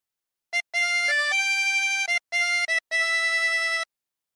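"O Christmas Tree" played on a 24-hole tremolo harmonica, a short phrase of wavering, reedy held notes separated by brief gaps, clear and close with no talking.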